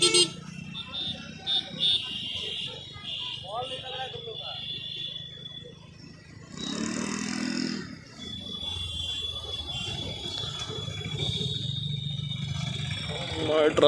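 Busy road traffic in India rumbles along with occasional car horns tooting over it, including auto-rickshaws, and people talk now and then above the steady engine noise.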